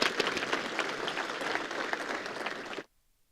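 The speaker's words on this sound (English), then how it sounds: "Round of applause, everyone." Audience at a hog farmers summit breaks into steady, dense applause that holds for nearly three seconds, then cuts off abruptly into silence.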